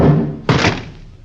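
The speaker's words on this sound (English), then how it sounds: "Baldy kicked the door shut" In an old-time radio detective drama, a door is kicked shut with a single loud, close slam partway through, heard over a low background of room noise.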